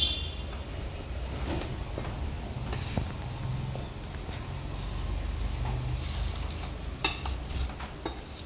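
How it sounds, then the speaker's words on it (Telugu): Rice flour being stirred into boiling water in a pot for village-style murukulu, with a low bubbling rumble, soft scraping and a few utensil clinks, close and steady. "ఈ నీళ్లు మరిగేటప్పుడు ఈ పిండి ఇందులో పోసి కలుపుకోవాలి"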